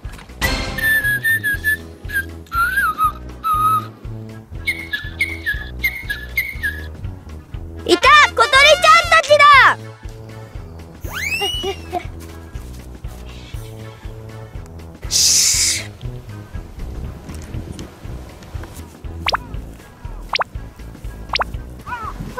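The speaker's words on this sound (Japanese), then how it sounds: "小鳥ちゃんの声が聞こえるぞ" Bright, high chirping and whistling notes of a small bird come in short bursts over background music, with a loud flurry of calls near the middle, inside a bread bakery.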